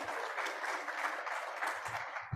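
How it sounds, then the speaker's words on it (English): Steady crowd applause, many hands clapping continuously at a moderate distance, with no voices standing out. "Let's give them a nice round of applause."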